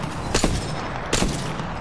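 Two sharp gunshots ring out about 0.7 seconds apart in a video game, each with a quick decaying tail, over constant background game noise and no talking.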